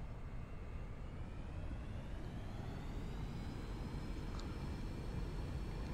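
Airliner engines roar steadily during a takeoff roll in the X-Plane 11 flight simulator, a constant broadband rumble with a rising whine layered on top, fairly faint and without talk.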